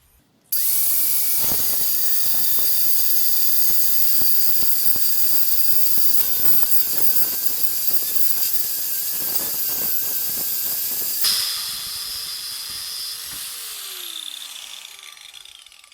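A Parkside angle grinder's corundum cutting disc screams in a loud, steady high whine for about ten seconds, then the pitch shifts and the motor winds down.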